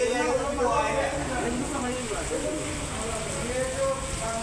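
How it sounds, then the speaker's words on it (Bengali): Heavy rain falling in Qatar, a dense steady hiss filling the whole clip close up, with someone talking loudly over it. "ভারত বাংলাদেশ যেরমের বৃষ্টি, এই রকমের বৃষ্টি কাতারে"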